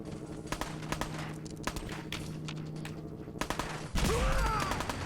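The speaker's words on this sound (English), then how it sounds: "What are you guys even shooting at?" Rapid gunfire in the Fallout 4 video game, PC version: repeated sharp shots crackle in irregular bursts at moderate distance, ending with a louder, denser volley, with no speech over it.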